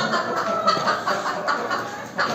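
Several ornamental chickens cluck and murmur softly at close range, a busy, overlapping chatter of fowl with a light background hiss.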